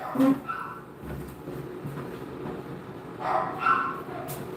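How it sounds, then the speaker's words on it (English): A dog barks and yips indoors at moderate distance in a few short bursts, one near the start and a cluster later, over low background rumble. "it was just a dog"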